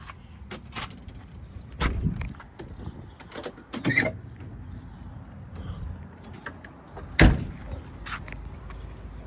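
Sliding side door on a 1975 Volkswagen 23-window bus slides shut and latches, a handful of faint knocks and clunks, then one sharp louder latch click near the end.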